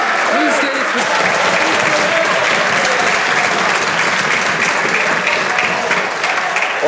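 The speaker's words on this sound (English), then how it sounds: "I'll ask honourable members to hold off on their applause" Members of the Canadian House of Commons applaud in the chamber, producing dense, sustained clapping that fills the hall, with voices mixed in underneath.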